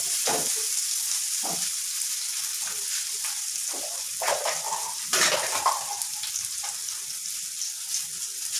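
Ginger and garlic sizzle steadily in hot oil in a pan while rice tikki is being prepared, a constant bright frying hiss with occasional louder spits and crackles, close and continuous throughout.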